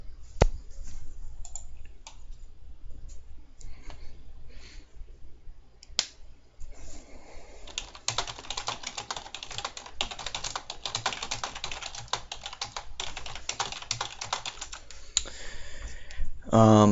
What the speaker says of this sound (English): Sorry if you can hear the typing.